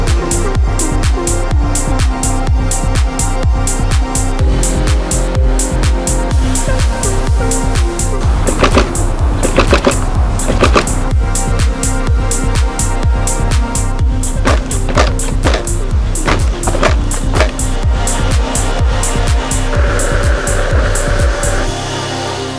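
A Veteran Sherman-S electric unicycle rolls along, giving a loud continuous rumble of wheel and road with repeated rhythmic knocks and clatters, close to the listener.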